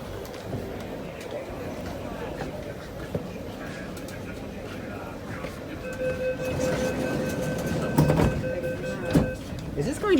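Cabin ride aboard an MTR Tuen Ma Line C-Train, car C418, running from Yuen Long to Siu Hong in Hong Kong: a steady rolling rumble with rattles, and a rising motor whine and clunks toward the end.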